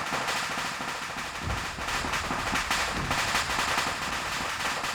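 Dense, continuous barrage of gunfire and explosions in a WW2 train simulator video game, with rapid overlapping bursts and low booms filling the whole stretch at steady loudness.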